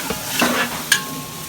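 Food being stirred and fried in a cooking pot sizzles steadily, broken by a few sharp scraping stirs close by.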